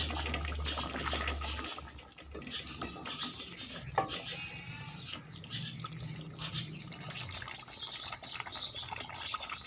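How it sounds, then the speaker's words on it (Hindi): Water is poured into a pan of wadiyan curry (Eid-style wadiyan ka salan), making a steady, close splashing and bubbling hiss that runs throughout with a low rumble at the start. "अब इसके अंदर पानी डाल दें"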